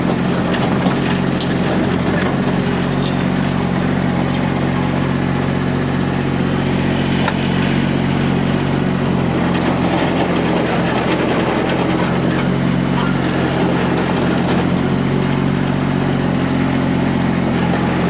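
A Rippa diesel mini skid steer runs steadily close by, its engine a constant rumbling drone with clanks from the machine and no speech.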